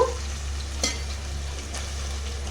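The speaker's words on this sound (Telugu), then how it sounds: "ముందుగా కట్ చేసి పెట్టుకున్న టమాటా ముక్కలు వేసుకుందామండి టమాటాలు కరివేపాకు" Chopped tomatoes and curry leaves hitting a pan of frying Nellore fish curry give a constant hiss and sizzle, with a brief stirring scrape near the start. It sounds close and steady, with no voices.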